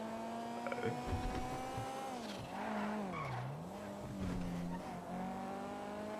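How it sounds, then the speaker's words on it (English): A car in GTA roleplay swings through a turn with loud tire squeal and skidding over a steady engine drone, the pitch dipping and rising as it slides, while someone talks over it. "the way this car turned is so good"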